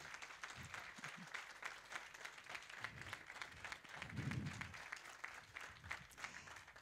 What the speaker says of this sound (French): que l'on peut applaudir bien fort également